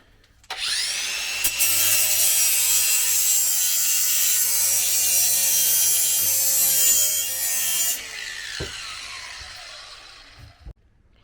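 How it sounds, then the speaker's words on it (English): A power grinder cuts away a fouling part during a turbo install on a Suzuki Jimny, a loud, steady high-pitched grind running close for several seconds before winding down and trailing off. "just going to grind some off there"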